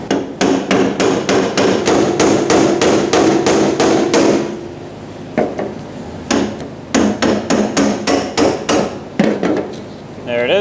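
A brass punch is hammered to turn the fuel pump lock ring on a Ford E-350 Super Duty 5.4L V8 fuel tank: rapid, sharp metallic strikes in steady bursts with a short pause midway, close and loud.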